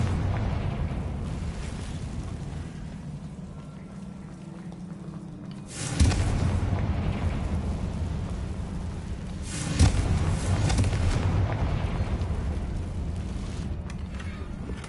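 A Confringo fire spell from Hogwarts Legacy explodes in two heavy booms, each with a sharp onset and a rumbling tail, over a dense, continuous game backdrop with no talking.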